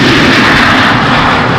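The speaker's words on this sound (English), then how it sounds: "There's a 737 from KLM" A KLM Boeing 737 jet rushes past close by at Amsterdam Schiphol, a loud, dense roar of engine noise filling the whole brief moment with no voices.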